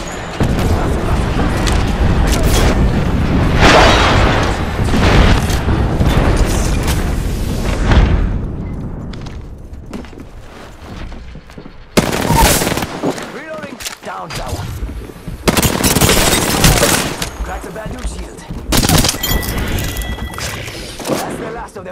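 Apex Legends battle noise: loud bursts of gunfire and booming explosions come in dense waves, broken by short quieter gaps, with players talking excitedly over the action.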